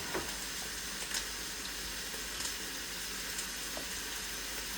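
Meat sautés and browns in a hot pan, giving a dense, continuous sizzle with faint scattered pops and occasional stirring scrapes, close and steady, with no talking.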